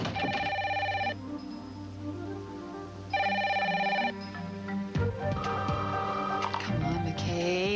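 An old-style telephone bell rings in two repeated bursts with pauses between them, fairly quiet indoors, followed by a few clicks and soft knocks.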